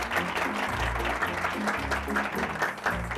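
An audience at a gathering claps in a short, steady burst of applause, moderately loud and continuous for a few seconds.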